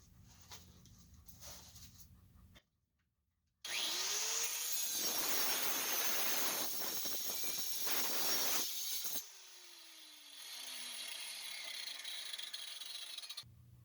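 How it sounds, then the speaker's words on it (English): Brass tubing being trimmed to length in a machine shop, a loud continuous cutting and grinding burst lasting several seconds, followed by a quieter steady whirr and faint tonal sweep as the machine winds down. "I'm going to trim this piece of brass tubing to length"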